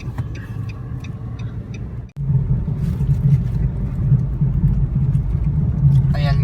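Heavy road traffic heard from inside a moving car, a continuous low engine and road rumble that drops out briefly, then resumes loud and steady.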